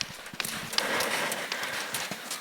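A pony's hooves clip-clop on the ground as it is moved, with irregular close hoofbeats and shuffling steps, a few sharp strikes standing out over a soft background.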